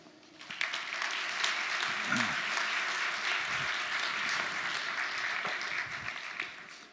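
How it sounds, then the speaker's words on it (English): A large audience at a robotics keynote in a big exhibition hall gives a warm round of applause, a steady clapping wash that builds quickly, holds for about six seconds, then fades. "give a warm round of applause to Mr. Hiroshi Ishiguro."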